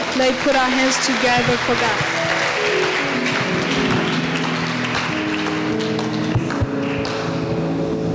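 A church congregation breaks into loud, sustained applause that fills the room for several seconds, the dense clapping mixed with voices and tonal music.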